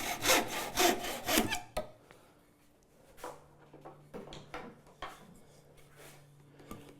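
Handsaw ripping small wood stock, a brisk run of loud rasping strokes followed by slower, fainter strokes as the cut continues, close and alone.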